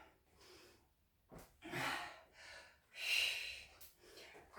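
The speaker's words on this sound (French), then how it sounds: "Soufflez bien" Heavy breathing during a summer dumbbell strengthening workout, with several breathy exhales and gasps in an uneven rhythm, close and moderately loud, with no talk over them.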